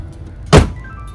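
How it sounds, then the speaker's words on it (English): A single solid thunk of a 2011 Jaguar XF sedan's door or trunk shutting, loud and close, with quiet surroundings before and after. "Nice sound from the doors and trunk closing too."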